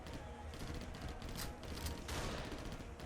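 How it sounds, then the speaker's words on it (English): Dense, continuous gunfire with rapid overlapping bursts, like a fusillade or machine-gun fire during a zombie-horde battle, steady and moderately distant throughout with no speech. "There is active gunfire"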